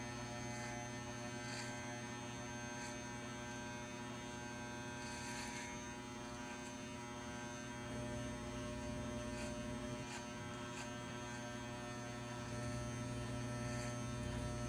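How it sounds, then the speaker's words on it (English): Electric hair clippers fitted with a number 2 guard trimming hair, a steady close buzzing hum running throughout with faint crackling bursts as the blades pass through the hair, no talk. "This is just me trimming up all along here."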